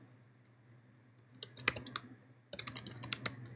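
Typing on a computer keyboard while entering copyright details into an ID3 tag editor, heard as two short bursts of quick, close key clicks over a faint steady hum, with no talking.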